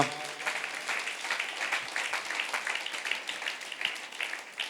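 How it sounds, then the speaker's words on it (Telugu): A church congregation at a Pentecost festival gathering claps loudly together, a dense continuous patter of many hands that holds steady for several seconds, with a few voices faintly mixed in. "ఒకసారి గట్టిగా చప్పట్లు కొడదామా?"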